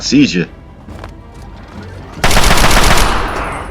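Gunfire in Fallout 3 erupts midway as a loud, dense burst of rapid shots that rings on to the end, following a short voiced sound and quieter game noise.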